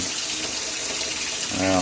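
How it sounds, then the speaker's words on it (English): Cold tap water runs into a kitchen sink during kombucha and water kefir preparation, a steady close hiss of pouring water with a brief tonal hum near the end. "wait for the sink to fill with cold water"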